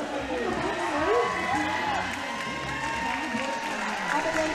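A dense crowd cheers and shouts continuously at a junior roller derby bout between Jersey and New Hampshire, with loud, steady roaring and overlapping voices in an indoor arena.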